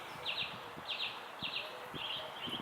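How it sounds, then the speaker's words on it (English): A mockingbird sings a series of quick, bright chirping phrases that repeat every half second or so, faint and somewhat distant over quiet outdoor background noise. "It's a mockingbird."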